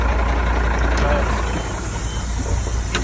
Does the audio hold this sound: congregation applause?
no